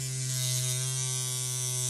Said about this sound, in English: And that vibration seems to help a bit with the shaving.